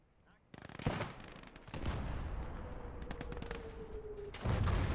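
Gunfire and grenade blasts from the WWII strategy game Gates of Hell: sharp broadband shots and bursts break over a rumbling battlefield bed, with heavier blasts near the start and end.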